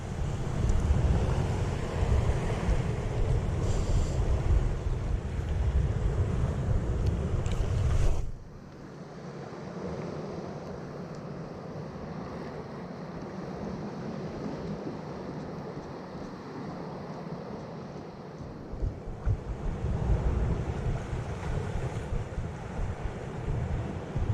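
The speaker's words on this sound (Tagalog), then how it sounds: "yung alon" Continuous roar of surf and wind, heavy at first, then dropping to a softer, steady wash before swelling again near the end.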